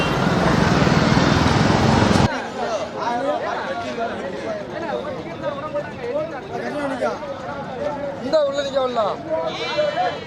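Goats bleating at Melapalayam goat market, a busy livestock market in Tamil Nadu: a loud burst of dense bleating and babble at first, then a thinner crowd ambience with people talking, occasional animal calls and passing traffic.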